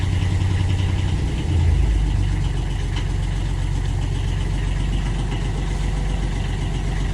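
A car engine with a Bosch alternator that is not charging idles steadily up close, a loud, even low rumble with a brief lift in revs early on, and no talk.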